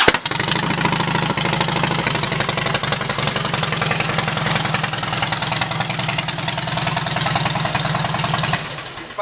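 A 2010 Harley-Davidson Softail Deluxe with a fishtail exhaust and custom air cleaner idles steadily, its loud, close, even engine rumble continuing until it fades at the very end.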